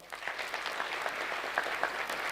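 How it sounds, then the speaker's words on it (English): A short burst of steady crowd applause at a graduation ceremony of Kenya's National Defence University, moderately loud and even, with no speech over it. "One more round of applause"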